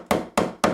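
An upholsterer's hammer drives staples with three sharp, evenly spaced strikes, each a loud close knock that quickly fades.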